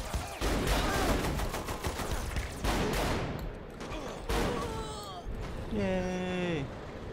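Rapid bursts of gunfire in Saints Row The Third as enemies are shot, dense cracking shots layered over game sounds, with a warbling synthetic tone near the end and a speaking voice mixed in.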